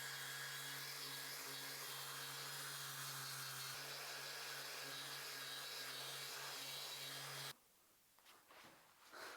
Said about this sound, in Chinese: 现在我们把背面打磨光滑，然后就可以安装了